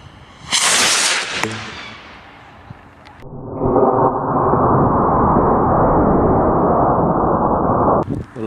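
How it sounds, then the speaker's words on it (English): Small hobby rocket launching outdoors: a sharp loud burst followed by a whooshing roar that fades, then a sustained steady hiss of rushing exhaust lasting several seconds, ending in clicks. "The last rocket disappeared so fast we didn't even see where it went."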